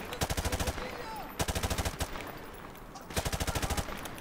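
Automatic gunfire in Call of Duty 4 Remastered comes in three rapid bursts of evenly spaced shots, loud and close, separated by brief pauses.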